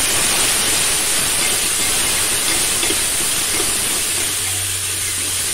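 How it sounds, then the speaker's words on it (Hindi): Chopped tomatoes and green chillies sizzling in a hot pan while being stirred for a gahat dal, a steady loud hiss filling the clip from start to finish with no voices. "कटा हुआ टमाटर डाला और कटी हुई हरी मिर्च डाला और हम इसे अच्छे से हिला लेंगे"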